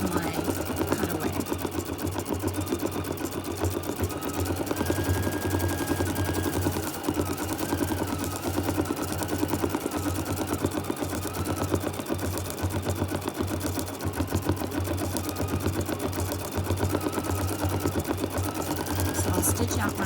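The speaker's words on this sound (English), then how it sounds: "So I'll stitch out my rows" An embroidery sewing machine stitches rows into fleece for a neck warmer, hooped on sticky-back stabilizer with cutaway underneath, making a rapid, continuous mechanical clatter at a steady rhythm.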